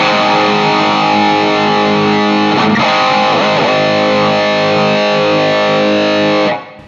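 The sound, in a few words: distorted electric guitar through cabinet impulse response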